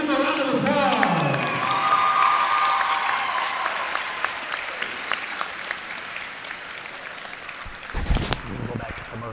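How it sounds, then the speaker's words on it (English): A crowd at a girls' varsity basketball home game between Clinton and Pleasant Hill claps and cheers in sustained applause. A voice speaks over it, and the clapping thins toward the end. "Let's give them a round of applause."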